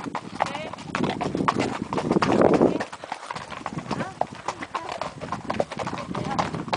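Hooves of a horse carrying two riders clip-clop in a steady rhythm outdoors, close and clear, while people talk over the hoofbeats throughout.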